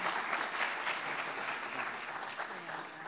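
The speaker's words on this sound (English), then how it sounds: "Can I get a round of applause for our team?" An audience at a generative AI demo day claps for a presenting team in a short burst. The applause is dense and fairly even, with a blur of hands and some crowd voices mixed in.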